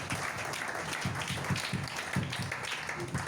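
A church congregation breaks into steady, rhythmic clapping, a dense run of claps repeating about twice a second at moderate distance, filling the room with no voices standing out.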